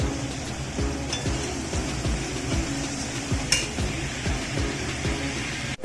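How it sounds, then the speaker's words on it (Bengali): Cauliflower and potato pieces fry in hot oil in a home kitchen, giving a steady, close sizzle with occasional stirring scrapes and light clinks of utensils, with no voices. "এবারে ওই তেলে ভাজবো ফুলকপি আর আলুটা"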